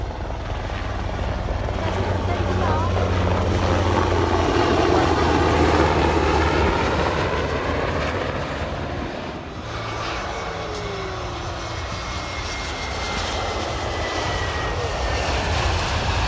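An airplane passes near Xiaogang airport, a loud broad engine roar swelling and then fading under outdoor ambience, with faint voices and a later thinner jet whine in the distance.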